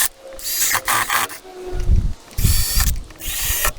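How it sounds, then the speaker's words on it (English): A power drill bores a small pilot hole into a Jeep body while fitting a propane install. It gives several short, close whirring bursts with pauses and clicks between them. "we're going to get the pilot hole drill going."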